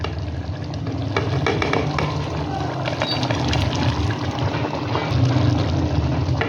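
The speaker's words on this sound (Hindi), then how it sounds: "प्याज को सारा इसमें डाल देंगे दोस्तों" Onions that were browned beforehand tumble into a pan of chicken karahi and hiss against the hot oil, giving a steady, loud sizzle with stirring and scraping throughout, and no voices.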